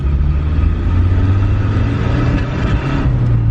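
A Toyota Previa minivan engine running with a misfire, a steady, close, loud rumble that holds for the whole stretch with slight uneven pulsing and no voices.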